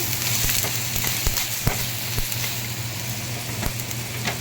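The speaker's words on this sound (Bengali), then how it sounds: "এবার মশলাটা একটু ভাজা ভাজা করে নিয়ে" A spice masala fries in a pan for vegetarian ghugni with a steady, close sizzle and scattered crackling pops, loud and continuous with no voices.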